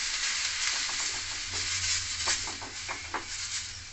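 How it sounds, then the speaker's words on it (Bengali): Water splashed onto a hot tawa sizzles in a steady, close hiss, broken by several sharp crackling spurts as droplets hit the griddle. "দেবো একটু জলের ছিটা দিয়ে নেবো এতে আমি"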